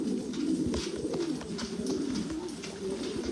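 Pigeons coo in low, throaty, rolling calls, repeated close by with soft rustles of wings in between, no talking heard.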